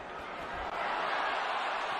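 Large arena crowd at a boxing match roaring steadily and loudly for the whole stretch, a dense continuous wash of cheering with no distinct individual voices.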